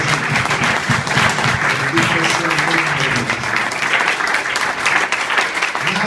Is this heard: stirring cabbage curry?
no